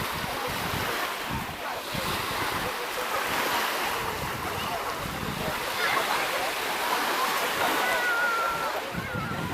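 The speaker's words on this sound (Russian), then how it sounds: "Это Калининград. Балтийское море." Baltic Sea waves wash onto a beach near Zelenogradsk, Kaliningrad, as a steady, loud roar of surf that never lets up, with wind buffeting the microphone throughout.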